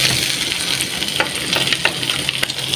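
Shrimp and lemongrass fry in chili sambal in a small pan, giving a steady close sizzle with faint stirring clicks and pops, and no talking.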